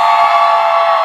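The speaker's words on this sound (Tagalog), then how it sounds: "So, sa lahat ng Pinoy dito, isang malakas sigawan naman dyan." A Filipino crowd shouts and cheers together in a loud, sustained burst of massed voices, brief and close.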